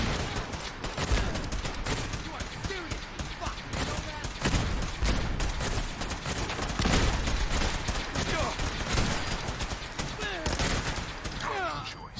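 Rapid gunfire and grenade blasts in a Fallout 4 battle against Gunners, dense overlapping shots crackling continuously and fairly loud throughout, with someone talking over the combat.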